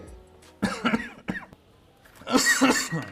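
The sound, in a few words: a person coughing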